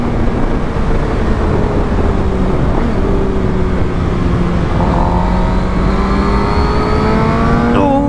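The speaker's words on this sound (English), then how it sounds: "Oh, this bike is so lovely when you can get the throttle on a bit." A Suzuki GSX-R750 motorcycle engine pulls hard on a twisty road, its tone rising steadily through the revs under loud, constant wind rush, heard from the rider's position.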